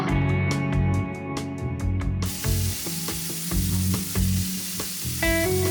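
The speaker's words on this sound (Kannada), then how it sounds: "ಸೊಪ್ಪನ್ನ ಎಣ್ಣೆಲಿ ಚೆನ್ನಾಗಿ ಫ್ರೈ ಮಾಡ್ಕೋಬೇಕು" Fenugreek leaves fry in hot oil in a pan, with a steady loud sizzle broken by repeated sharp scraping and stirring strokes from a spatula, and no voices.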